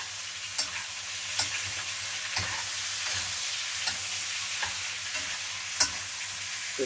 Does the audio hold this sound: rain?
no